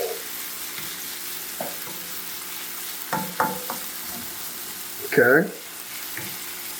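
Vegetables sweat in a pan for salmon and shrimp seafood cakes, a steady soft sizzle with occasional stirring clatter, while a voice speaks briefly over it.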